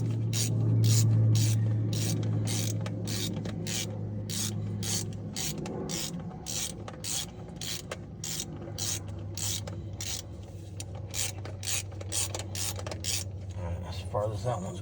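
A crescent wrench loosening bolts on a 1968 GMC truck makes a long, dense run of sharp metallic clicks and scrapes in quick irregular rhythm, close by, over a low steady hum.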